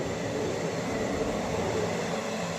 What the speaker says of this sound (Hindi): नॉन स्टॉप गाड़ी निकल रही भाई। पैरेलल में ओवरटेक कर दिया यार।